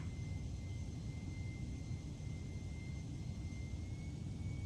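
A steady, broad jet roar from a Boeing 747 in a simulated climb in Microsoft Flight Simulator, with a constant high whine above the rumble, even and unbroken.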